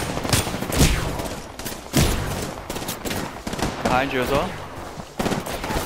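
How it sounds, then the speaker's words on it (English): Gunfire rattles in Apex Legends, several loud bursts and single shots spaced through the clip, with a player talking briefly over the shooting. "They're shooting from the far"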